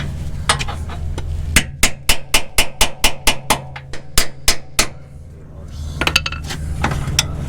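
Steady series of sharp, loud metal hammer strikes on a control arm bolt of a 2003-2011 Ford Crown Victoria, about fifteen evenly spaced blows, followed by lighter clinks of tools in a garage.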